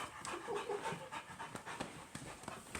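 A dog pants rapidly with its tongue hanging out, the quick, breathy rhythm close and steady throughout, with no voices.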